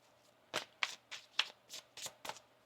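Tarot cards being riffled in quick bursts, about seven crisp shuffles in a steady rhythm, close and clear against a quiet background.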